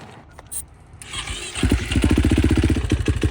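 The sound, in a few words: KTM 450 motorcycle engine being started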